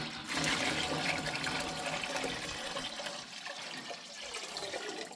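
Water pours steadily and fairly loudly into a pot of just-boiled turkey brine, a continuous rushing splash that eases slightly toward the end.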